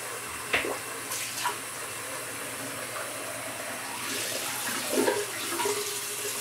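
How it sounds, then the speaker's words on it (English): Tap water runs steadily into a sink while blood from a small shaving cut on the cheek is rinsed off, with a few splashes and soft knocks over the constant flow; nobody speaks. "I'm going to rinse that off"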